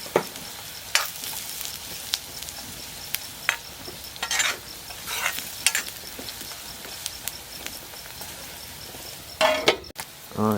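Onions fry and are stirred in a pan for a chicken fry, a low steady sizzle with scattered scraping strokes and occasional light clinks of the utensil against metal, near and without speech.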